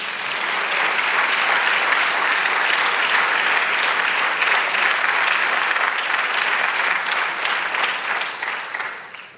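A church congregation claps hard and steadily for about nine seconds, a dense, even wall of applause that fades slightly at the end, with no one speaking over it.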